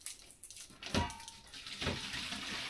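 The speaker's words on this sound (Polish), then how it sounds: "Jak zwykle nagrywam, ktoś wodę spuszcza." Water rushing through pipes as a toilet is flushed elsewhere in a building, a muffled surge that swells, eases off and rises again into a steady running flow.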